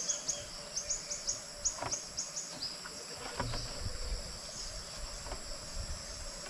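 Quiet countryside in Ormoc, Leyte, with a steady high insect trill and short repeated chirps in the first seconds, faint and distant, plus a few soft thumps.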